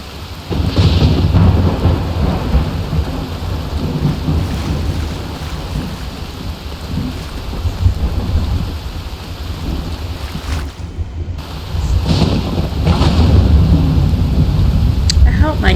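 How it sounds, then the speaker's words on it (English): Rain and rolling thunder in a video game set in a wintry town, a loud continuous downpour with deep rumbling peals swelling and fading, briefly dropping out before returning. "And the rain is making it mist."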